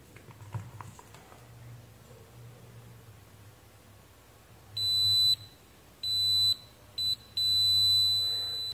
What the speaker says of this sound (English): If I will set multimeter to continuity, it will give audible tone.